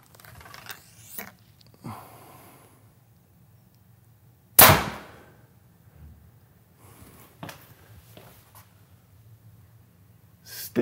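Arrows shot from an Elite Carbon Eon compound bow: one sharp, loud release snap stands out, with softer clicks and handling noises scattered before and after.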